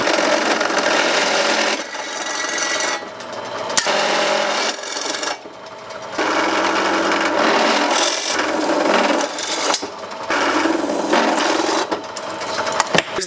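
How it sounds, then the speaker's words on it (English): A drill bores holes in a switch panel in several loud, harsh bursts of whirring and grinding, separated by brief pauses. "I'm going to drill 2 extra holes"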